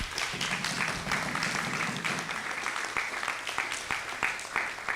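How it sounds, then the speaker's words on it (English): An audience at a youth parliament session gives a round of applause: a continuous patter of many hands clapping, somewhat distant and moderately quiet, lasting the whole five seconds. "An audience, I would like you to give them a round of applause."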